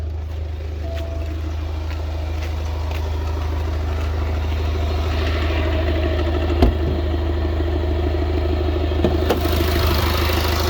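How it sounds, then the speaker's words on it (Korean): Flood-damaged BMW F10 520d xDrive diesel engine idling steadily and close, with an even low rumble and no throttle blips, running alone without talk. "엔진 시동 상태 매우 양호."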